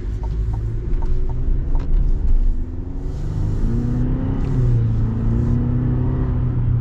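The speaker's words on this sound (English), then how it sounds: "I should be able to get an acceleration after this truck here." A Chevy Silverado pickup truck accelerating, heard from inside as a low engine rumble that climbs in pitch through rising harmonics over several seconds, with faint clicks early on and no talking.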